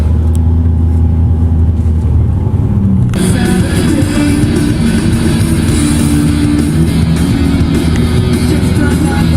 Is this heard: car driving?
yes